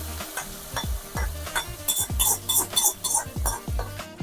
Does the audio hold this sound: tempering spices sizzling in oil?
yes